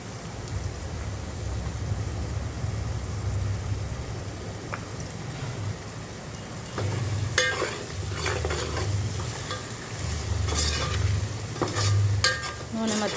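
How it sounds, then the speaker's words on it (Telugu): Garlic paste and curry leaves fry in oil in a pan, a steady close sizzle with scraping stirring strokes that swell in bursts toward the end. "నూనె మొత్తం పైకి తేలే వరకు ఇట్లా వేపుకోవాలి మొత్తం"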